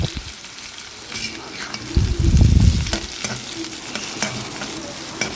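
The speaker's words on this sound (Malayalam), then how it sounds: "വെളുത്തുള്ളിയൊക്കെ പെട്ടെന്ന് ഒന്ന് വഴന്ന് കിട്ടാനായിട്ട് കുറച്ച് നേരം ഇളക്കാം" Garlic sautéing in a pan, crisp close sizzling with sharp spatula scrapes and knocks, a louder burst of stirring near the middle.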